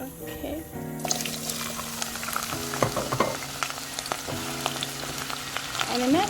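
Hot oil for an egg stew sizzles and crackles steadily after ingredients hit the pan, a dense close frying hiss with stirring, while a person talks over it.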